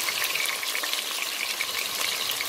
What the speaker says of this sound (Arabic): كده خلاص الزيت سخن، وضعت البصل، هحركه شوية لحد ما يجري لون ذهبي